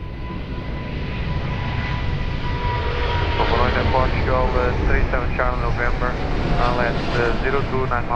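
An Emirates airliner taking off from runway 02 at Lisbon Airport, a loud steady engine roar that stays constant throughout, with a radio voice speaking over it in the middle.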